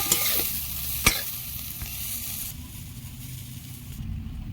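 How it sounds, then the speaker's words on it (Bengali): Dry red chilli, whole cumin and bay leaves tempering in hot oil, a steady sizzle with a sharp crackle and some stirring scrapes, fading somewhat toward the end, no voices. "তেল দিয়েছি একটা শুকনো লঙ্কা গোটা জিরে দুটো তেজপাতা"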